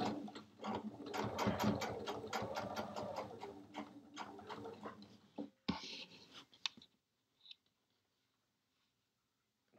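A sewing machine stitches quilt binding in the ditch, a close, rapid run of needle strokes that slows and stops partway through, followed by a few faint clicks and silence.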